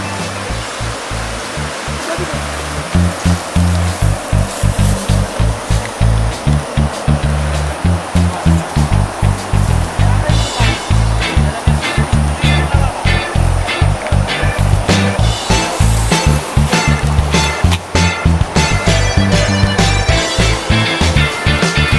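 Loud, steady roar of a mountain waterfall and rushing water heard along a downhill jungle path in Sitapongan, Sijamapolang, North Sumatra, a continuous broadband rush filling the whole clip with no voices over it.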